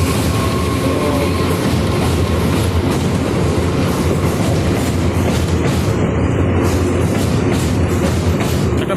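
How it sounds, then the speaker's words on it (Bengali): Loud, continuous rumble of a local train crossing Kolaghat Bridge, wheels clacking in a steady rhythm, with no voices. "আই হোপ আওয়াজটা আপনারা ফিল করতে পারছেন লোকাল ট্রেনের আওয়াজটা"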